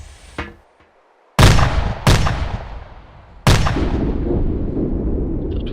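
A 60mm mortar fires in ArmA 2: three loud, sharp reports, each with a long rumbling decay. A short burst of near silence comes before them, and no voices are heard.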